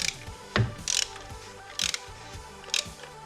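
Plastic oil filter housing cap on a Mini Cooper S Countryman being twisted back on by hand, giving a few separate ratcheting clicks and scraping turns, close and fairly quiet with short gaps between.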